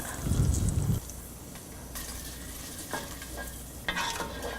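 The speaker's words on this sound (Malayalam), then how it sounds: "ഇപ്പോൾ കടുക് പൊട്ടിച്ച സാധനങ്ങളിട്ട് നന്നായി മിക്സ് ചെയ്യുക" Mustard seed tempering being stirred into cooked pineapple pulissery, a Kerala yogurt curry: a brief sizzling burst up front, then soft spoon scrapes and light liquid churning in a pot, close and alone.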